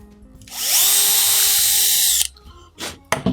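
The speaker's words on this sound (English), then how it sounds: "I also need to clean this up a tiny bit with my rotary tool" A high-pitched rotary tool whirs up, grinds plastic steadily for about a second and a half on a Blade Runner blaster kit part, then spins down, followed by a few light clicks and taps.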